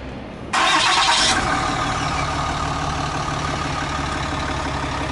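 A RAM 2500 Laramie crew cab 4x4 pickup starts up nearby: a brief loud cranking burst catches, then settles into a steady, rumbling idle.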